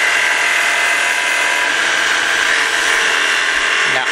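A skew chisel cuts wood on a lathe, a steady loud whirring scrape holding constant throughout, close and alone.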